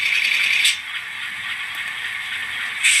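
A model air compressor from a sound decoder in an N scale Kato AC4400 locomotive hisses steadily in a bright, continuous stream, with a louder burst at the start and again at the end.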